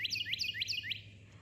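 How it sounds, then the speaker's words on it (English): Birds chirping on a patio in Bronson in the morning, a bright repeated rising tweet sounding several times in quick rhythm, then fading to quiet outdoor ambience. "Do you hear that? The birds."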